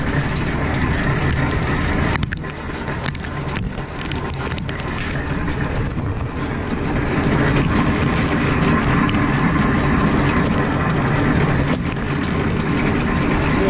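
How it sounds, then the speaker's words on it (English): A corn grinding machine's auger spins steadily, a continuous dense mechanical rumble and rattle that stays loud and close throughout with no pauses. "So now you guys can see the auger spinning."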